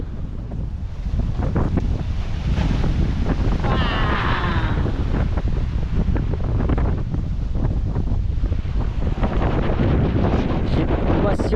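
Strong, steady wind roars across the microphone on the open West Philippine Sea, with the rush of waves and a boat underneath, continuous and loud throughout.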